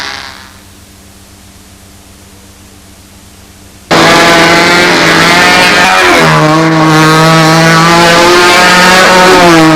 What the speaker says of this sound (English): we got guys breaking in engines and everything over here